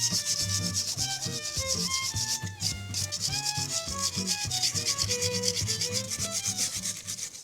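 Rust scrubbed by hand off old paint on a wheel with a steel brush, a continuous close, rough rubbing and scraping with rapid back-and-forth strokes and no pauses.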